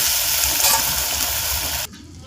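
Pieces of taro sizzling steadily in hot oil, a loud continuous frying hiss that cuts off abruptly near the end.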